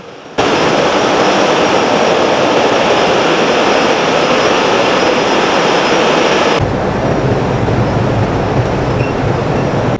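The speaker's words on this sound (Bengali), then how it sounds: "এটা হচ্ছে ইঞ্জিন রুম।" A loud, steady engine roar fills the engine room of a large passenger river launch on a Bangladesh route toward Barishal, droning continuously at close range before its tone drops and shifts partway through.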